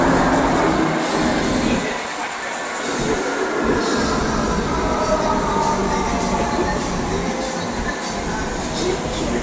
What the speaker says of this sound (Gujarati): આપણી મેટ્રો આવી ગઈ હવે.